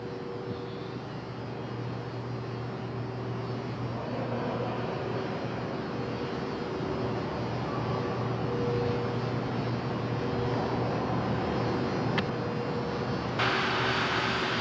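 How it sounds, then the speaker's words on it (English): A steady, droning engine of a one-third scale model Curtiss Model D pusher aircraft hums continuously with a broad rumble and faint tonal whine, holding an even level throughout. "This is a Curtis Model D pusher."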